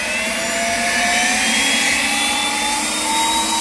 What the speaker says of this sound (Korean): 이제 2단 모드로 해서 모여있는 낙엽을 한번 청소해 볼게요.